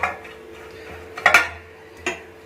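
Butter spread around the inside and sides of a metal cake pan for a village-style mango cake, heard as soft scraping with a few sharper clinks of utensil against the pan, close and alone.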